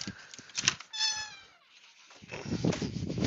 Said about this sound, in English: The door squeaked like it was a cat.